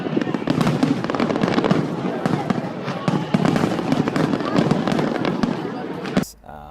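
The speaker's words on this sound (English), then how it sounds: "There was these fireworks a couple of nights." Fireworks burst repeatedly at a holiday festival, a dense, continuous run of loud cracks and booms that ends abruptly.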